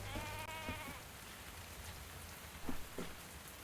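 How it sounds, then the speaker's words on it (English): Steady rain pours outside a tavern in the video game Tavern Talk, a constant hiss of drops with a brief tonal call early on and a couple of soft taps near the end. "And it's raining out."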